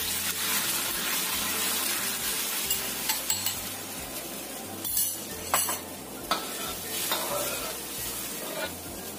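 A sauce mixture and water are stirred into a sizzling frying pan, the utensil scraping and clinking against the metal in an uneven rhythm over a constant hiss.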